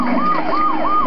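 Fire truck siren from the PS2 Family Guy video game, a loud close wailing tone rising and falling in steady repeated sweeps, heard alone with no talk.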